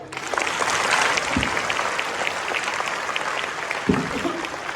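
Steady applause from a crowd of schoolchildren at a road safety month celebration, a dense continuous patter of many hands throughout, moderately loud and even, with a couple of brief thumps.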